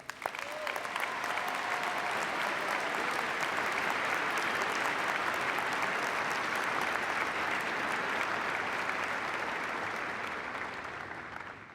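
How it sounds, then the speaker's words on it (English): Sustained applause from a large audience at a university convocation ceremony, steady and dense throughout with no talk, tapering slightly at the very end. "Please join me now in a warm set of applause for these outstanding"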